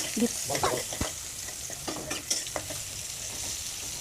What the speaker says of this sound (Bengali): এবারে তেলের মধ্যে পেঁয়াজটা দিয়ে দিচ্ছি।